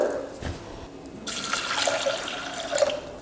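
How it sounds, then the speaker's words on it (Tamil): Water runs from a tap into a pot of soaked chickpeas before pressure cooking, a splashing, gurgling stream that grows fuller and brighter after a moment, close by and steady, with no speech. "பயர் முங்குற அளவுக்கு தண்ணி சேர்த்துக்கிட்டா போதும்."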